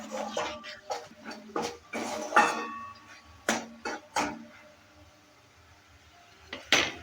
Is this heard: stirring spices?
yes